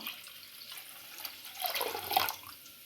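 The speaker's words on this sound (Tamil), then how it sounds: "இந்த புளி கரைசல் வந்து புளி வந்து கரைச்சி வச்சுருக்கேன் அதையும் சேர்த்துக்குவோம்" Tamarind water is poured into a pot of hotel-style pepper rasam, a soft, close liquid trickle and splash that swells toward the end, with no voices.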